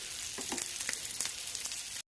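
Oil sizzling and crackling steadily as chillies fry, with small pops scattered throughout and no voices.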